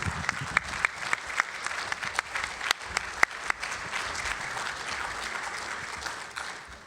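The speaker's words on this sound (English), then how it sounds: "So please give everyone a round of applause." An audience at a surgical quality awards ceremony applauds steadily, a dense patter of many hands clapping with sharp individual claps standing out, fading slightly at the end.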